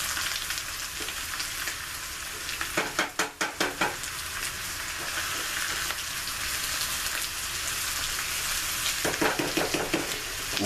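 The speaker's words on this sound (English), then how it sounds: "I always end up having to add more oil as well. I want to make sure they fry well." Home fried potatoes sizzle and crackle in hot oil in a pan, a steady dense frying hiss with brief louder bursts of spattering as the pieces are turned, no talking.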